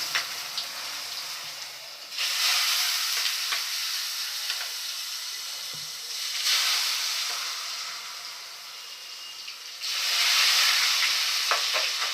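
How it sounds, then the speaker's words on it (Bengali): Eggplant slices frying in hot oil give a steady, loud sizzle that swells in waves as pieces go in, with a brief clink partway through. "তেল গরম হয়ে গেছে, আমি একটা একটা করে বেগুন দিয়ে দিই।"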